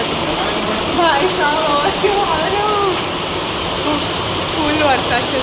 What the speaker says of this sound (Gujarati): એકદમ ફૂલ વરસાદ પડે છે